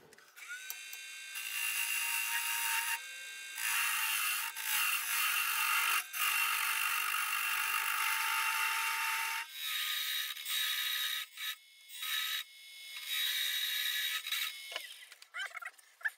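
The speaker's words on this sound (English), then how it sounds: "We'll just put a little tenon on this end." A wood tenon is turned on a lathe, with a loud, close, continuous scraping and cutting whine from the tool on the spinning workpiece, broken by brief pauses and shifts in pitch.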